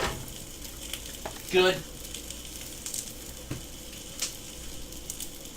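Onions frying in a pan after a pinch of salt, making a steady low sizzle throughout with a brief louder burst of crackle partway, while a person talks briefly nearby.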